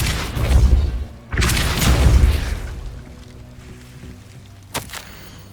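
A Depulso spell is cast in the Hogwarts Legacy video game, giving two heavy, booming blasts in quick succession that fade into a low rumble, with a short sharp crack near the end.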